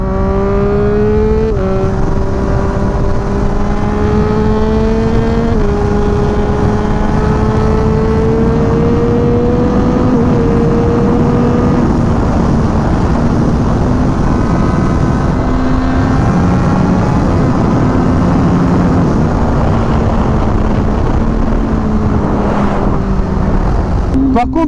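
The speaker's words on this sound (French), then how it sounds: "Une Daytona 765 Moto 2 édition limitée." Triumph Daytona 765 Moto2 limited-edition motorcycle ridden in heavy rain, its engine droning loud and close with rising pitch through repeated gear changes under constant wind and spray noise.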